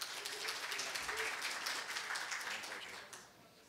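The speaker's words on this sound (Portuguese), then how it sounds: "Uma salva de palmas para o nosso palestrante." An audience at a business talk on process management applauds the speaker with dense, continuous clapping that holds steady for about three seconds, then tapers off at the end.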